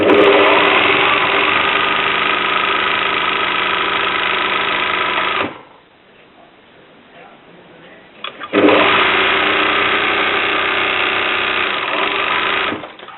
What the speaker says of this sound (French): Et je vais coudre le bas de ce qui symbolise mon vêtement.